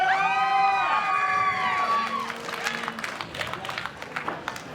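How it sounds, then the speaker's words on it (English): Wrestling crowd at an indie show cheering loudly at first, then settling into scattered clapping and shouts that fade as the noise dies down. "let's get another round of applause here for T.Y. Jackson and Lumberjack Larry."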